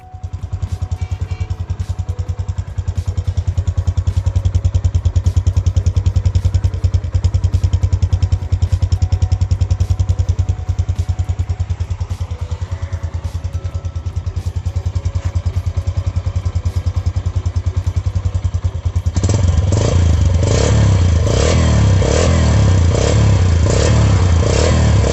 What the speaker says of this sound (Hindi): इस मॉडिफिकेशन के बाद मैं अभी आपको बाइक की साउंड सुना देता हूँ